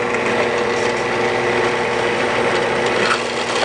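A drill press bores into a roll of toilet paper, giving a steady, dense whirring and grinding that stays loud and even throughout, with no talking.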